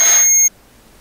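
A single short, high-pitched electronic beep, sharp and clear, then cutting off abruptly to near silence.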